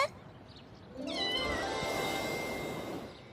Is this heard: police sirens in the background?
no